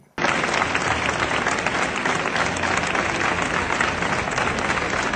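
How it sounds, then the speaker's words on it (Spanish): Loud, sustained applause from a large crowd at the International Tourism Fair, breaking out suddenly and holding a dense, even roar of clapping with no voices standing out. "Mazón otra vez ovacionado, en este caso Feria Internacional del Turismo"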